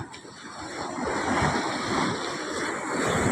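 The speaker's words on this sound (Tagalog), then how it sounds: "Hindi pa magkaano masyadong malaking alon." Sea waves surge and wash continuously with a steady broadband roar, close and fairly loud, with some wind buffeting the microphone on a rough day at sea.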